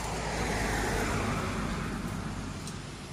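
Traffic on a road in France makes a loud, steady broadband roar as cars pass close by, continuous throughout without distinct gaps and with no talking.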